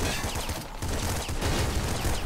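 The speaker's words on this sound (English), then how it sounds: "I'll take the auto shotgun for a while." Rapid automatic shotgun blasts from the auto shotgun in the top-down shooter Nuclear Throne, a dense, continuous barrage of loud, close shots with a brief gap partway through.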